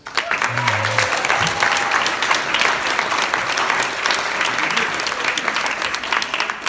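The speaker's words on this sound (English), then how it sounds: "for David Headley and Capital Crime, a round of applause, please" A room of guests at a crime fiction awards presentation applauds, with dense, lively clapping that starts abruptly and keeps going at strong level, and a brief voice is audible near the start.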